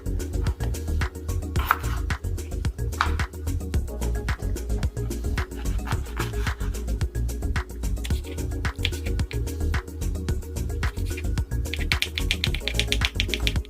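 A knife chops washed, unpeeled potatoes into cubes on a board, with steady rhythmic taps repeating close up over a low background hum and no talking.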